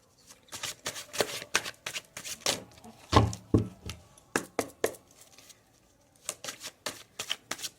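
Tarot cards are shuffled by hand in repeated quick riffles and taps, crisp bursts in an irregular rhythm with short pauses between them, close and clear with no talk.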